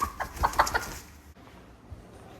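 Farm meat chickens clucking close by, a quick burst of several clucks and then quiet barnyard noise.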